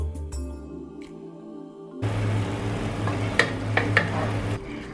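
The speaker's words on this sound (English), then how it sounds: "added the chopped tomatoes, as well as 1 tablespoon of sugar. Let that simmer for 5 minutes." Chopped tomatoes with a tablespoon of sugar simmer in a pan, a soft steady bubbling and sizzle that starts suddenly and carries on with a few light clinks, and no talking.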